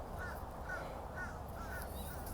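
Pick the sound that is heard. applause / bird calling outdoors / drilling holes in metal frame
bird calling outdoors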